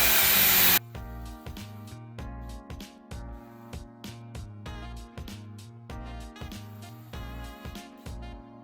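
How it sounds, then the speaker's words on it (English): A drill countersinks screw holes in a wooden noodle board stove cover, giving a series of short, repeated whirring bursts with brief pauses between them, close and fairly loud throughout. "countersink my holes so that when I use the screws, it will sink in and not scratch my stove"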